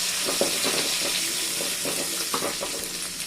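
Curry leaves hit hot oil in a pan with lightly fried garlic, cooking for a Tamil veg fish kuzhambu, giving a steady close sizzle and crackle with small pops throughout and no voices.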